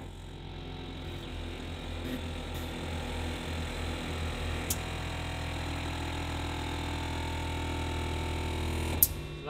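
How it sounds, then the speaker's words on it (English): The pneumatic brake system of a Roborace electric race car builds pressure with a steady mechanical hum and whir, close and moderately loud, with a couple of brief sharp clicks near the end. "that noise there is the pneumatic brake system."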